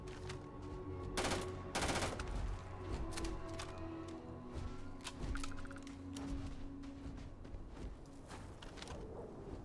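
Gunfire in the Starfield video game on PC: bursts of rapid automatic shots and single cracks over a layered hum of game ambience, moderately loud and close, with no talking.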